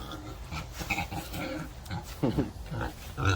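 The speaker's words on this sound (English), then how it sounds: "Look at this pig, he's living his best life." A muddy pot-bellied pig grunts and snuffles up close in a run of short, rough grunts. Someone talks softly over parts of it.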